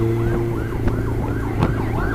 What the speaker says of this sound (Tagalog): Sumalubong ko kami ng ambulansya.